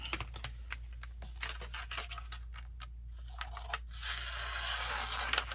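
Scissors snip and crunch through a plastic bag for a fake leather journal cover, a run of short close cuts and crinkles at low level over a steady low hum, with no talk.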